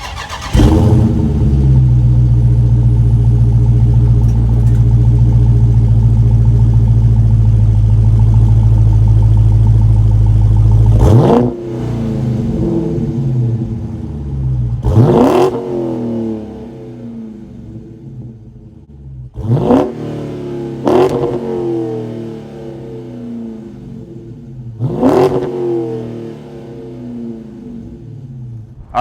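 A 2023 Dodge Charger Scat Pack Widebody's 6.4-liter SRT Hemi V8 fires up with a long loud rumbling idle, then barks through a series of sharp revs, about five distinct blips spaced a few seconds apart, close and with no talking.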